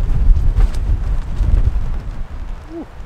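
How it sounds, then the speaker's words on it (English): A big gust of wind hits a tent campsite during a rainstorm: a loud, close, rumbling roar that buffets for a couple of seconds, then eases off. "Oh, that's a big gust."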